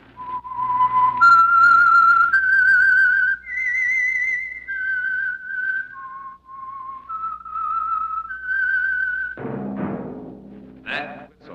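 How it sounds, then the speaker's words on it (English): A lone whistler performs the eerie theme of the old CBS radio drama The Whistler, a clear melody of sustained and sliding notes, ending in a brief burst of orchestral music. "That whistle is your signal for the Signal Oil program, The Whistler."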